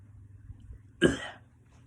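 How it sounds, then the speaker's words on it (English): One short, sharp cough breaks a quiet background, followed by stillness. "sorry for the cough"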